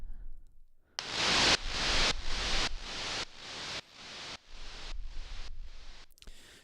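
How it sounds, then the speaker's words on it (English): Electronic white noise hit in a dark synthwave track, sidechained by a kick drum so it pumps in about nine regular bursts, each ducking sharply then swelling back, loud and without voices. "starting off with this white noise hit, which is sidechained by the kick drum"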